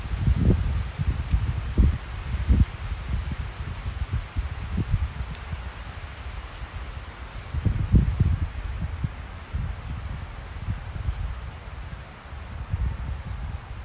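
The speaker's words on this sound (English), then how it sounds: "Do y'all hear how windy it is? Do you hear the trees talking?" Gusty wind blows through trees, leaves rustling in uneven surges with low rumbling buffets, fairly close and steady throughout.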